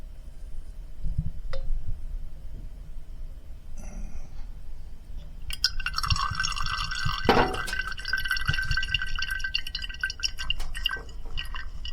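Liquid for a homemade essential oil is poured carefully into a container, quiet drips at first, then a clearer trickling stream with faint glassy ringing partway through, close and soft.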